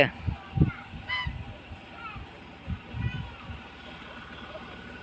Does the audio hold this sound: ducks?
yes